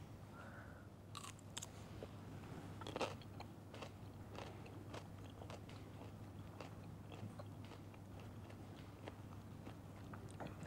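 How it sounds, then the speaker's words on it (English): Someone eats green salad in repeated soft crunches and bites, faint and close, over a low steady hum, with no talk. "All the way through, every single crunch of that was just pure greenness"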